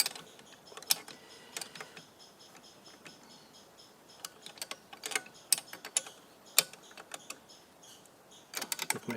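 A wrench works on a 1974 Evinrude outboard carburetor, giving a run of close, irregular metallic clicks and ratcheting ticks with short pauses, and a burst of clicks at the end.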